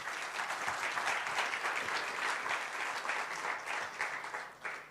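Audience at a chess event in the French Senate applauding an official, a steady dense wash of clapping from a sizeable crowd, moderately distant, fading slightly near the end.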